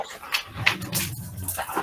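Dogs bark and whimper at a distance in short, scattered bursts during a prayer gathering, the yelps coming in a loose uneven rhythm.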